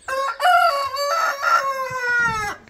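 A chicken lets out a long, drawn-out, crowing call, loud and close, standing alone without any talk.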